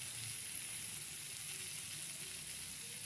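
Cauliflower frying in oil in a pan for a vegetarian cauliflower curry, a soft steady sizzle running throughout without pause, fairly quiet and close.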